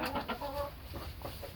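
A bunch of hens cluck and murmur nearby in short, uneven bursts, fairly quiet and with no talking.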